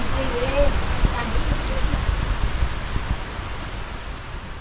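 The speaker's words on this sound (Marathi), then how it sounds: "पाऊस वाढला आता परत." Heavy rain comes down steadily outdoors as a broad, even hiss, with scattered drops hitting close by. It is loudest at the start and eases slightly toward the end, and no one speaks over it.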